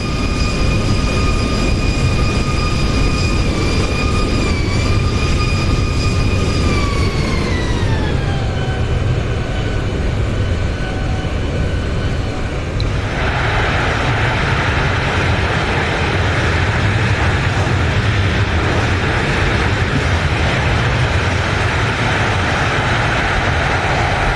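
A Zibo Boeing 737 lands in the X-Plane flight simulator, heard from outside: a loud, continuous jet roar with whining engine tones that fall in pitch, then a broad rushing noise as the jet slows.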